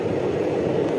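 A moving passenger train running from Vijayawada toward Howrah through Odisha gives a steady, continuous low rumble of carriages on the rails, with no voices.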